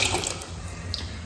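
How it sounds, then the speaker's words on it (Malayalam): Water pours steadily into a pot of chana dal payasam being cooked, a continuous close splashing stream with no talk. "ഇനി ആവശ്യമുള്ള വെള്ളം ചേർത്ത് കൊടുക്കാം."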